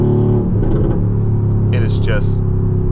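Mercedes-AMG GT R supercar engine, a loud steady low rumble heard from inside the cabin with a brief rise in revs, while someone talks over it.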